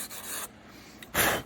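A sanding tool rubs against a model railroad track guide in a few short scratchy strokes with brief pauses between, close and fairly soft.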